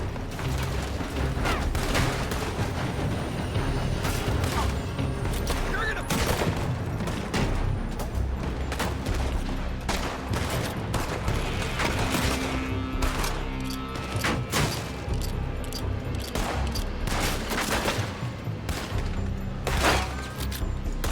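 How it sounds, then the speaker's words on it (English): Gunfire rings out in Red Dead Redemption 2 as enemies shoot from a building, with repeated loud shots, weapon mechanism clicks and booms through a dense, continuous game soundscape. "They're shooting from that building."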